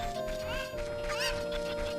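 Chickens cluck and squawk in Zelda: Ocarina of Time, a short burst of agitated game-fowl calls over a steady electronic background tone.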